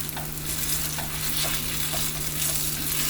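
Breakfast food sizzles and fries in a non-stick skillet, a steady, close hiss with faint stirring scrapes and no voices.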